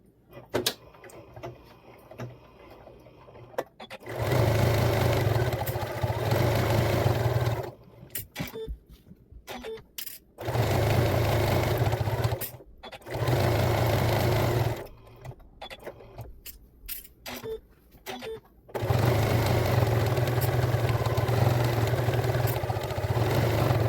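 A sewing machine stitching around the outside of fabric book panels in several loud, steady runs of motor hum and needle clatter, separated by short pauses filled with handling clicks and fabric rustle.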